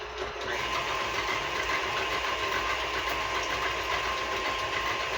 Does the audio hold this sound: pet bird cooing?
no